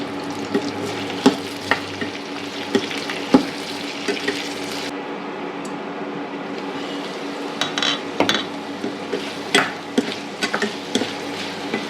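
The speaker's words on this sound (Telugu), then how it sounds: "ఈ కట్ చేసుకున్న దొండకాయని మీడియంలో పెట్టుకొని స్లోగా వేపించుకోండి" Cut ivy gourd fries slowly over medium heat in a pan, a constant soft sizzle broken by scraping stirs and light metallic taps, with no voices.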